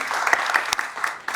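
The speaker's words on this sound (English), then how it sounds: "Big round of applause." A short burst of audience applause at a presentation in a hall, with dense clapping and a few sharper individual claps standing out, close and fairly loud.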